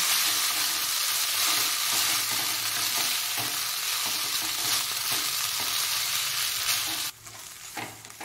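Boiled Maggi noodles stirred in a frying pan, a steady broadband sizzle with repeated soft scraping strokes for about seven seconds before the frying sound abruptly drops away to near quiet.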